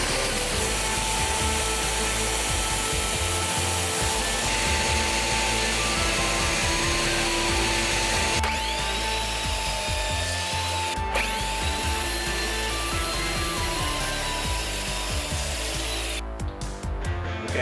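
Wood being sanded with 80 grit sandpaper on a small wooden bottle opener, heard as a loud, continuous power-tool whir with gritty scraping that runs unbroken and close for the whole stretch. No talking.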